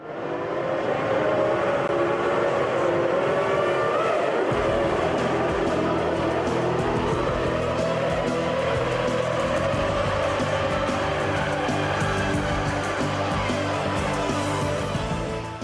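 Formula 1 cars, including the Arrows car of Jos on new compound tyres, scream past on track during the opening lap, a dense loud engine roar with overlapping whines shifting pitch as they pass.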